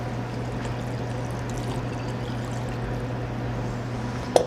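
Chicken broth pouring steadily into bread stuffing mixed with vegetables, egg and herbs, a soft continuous liquid stream over a low kitchen hum, ending with a small clink.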